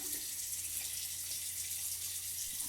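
Tap water runs steadily into a sink during a shaving session, a continuous hissing splash at low level, close by and uninterrupted, with no talking.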